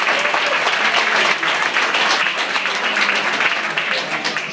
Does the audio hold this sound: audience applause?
yes